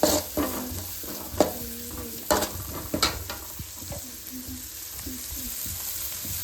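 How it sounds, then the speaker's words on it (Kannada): Corn tossed into Maggi noodles frying in a pan, giving a steady sizzle with repeated scraping and clinking stirring strokes, close and fairly loud, with no talking. "ಇವಾಗ ಕಾರ್ನ್ ಹಾಕೋಣ."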